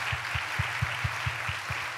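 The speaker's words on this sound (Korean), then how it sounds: "따뜻한 환영과 격려의 박수 한번 맞이할까요?" A congregation at a Sunday morning university church service applauds warmly. A broad, even wash of clapping fills the room, with a steady run of dull low thumps pulsing underneath.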